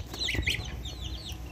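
Small bantam chicks from one brood peeping and cheeping in short, bright chirps, close by over a low background rumble.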